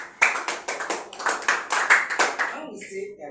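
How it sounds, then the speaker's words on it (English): Students in a school classroom clap their hands in a quick, steady run of sharp claps with a slight room echo, fairly close, ending in a short quieter tail. "Please clap for me."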